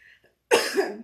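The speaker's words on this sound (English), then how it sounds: "I got a cough all of a sudden" A single harsh cough bursts out after a short quiet moment, close and fairly loud, with a faint voice just before it.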